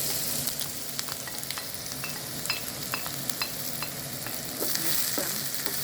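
Chopped onion sizzles as it fries in hot oil, a dense crackle close by, punctuated by sharp spatters and stirring clicks, with no voices.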